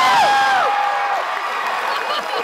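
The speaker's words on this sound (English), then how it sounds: "I want you to feel free to scream, yell, cheer, clap" A large concert audience at a video game music show in Kuala Lumpur cheers and whoops loudly, with sustained crowd noise and clapping filling the space, while high whistles and shouted voices rise out of the roar.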